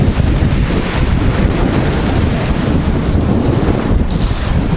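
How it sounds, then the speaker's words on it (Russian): Strong wind gusts buffet the microphone during a violent sea storm at Adler, Sochi, with roaring surf and sea spray, loud and continuous with no talk over it. "Сильно-сильно прям ветер подул, и все, все брызги просто на нас с вами."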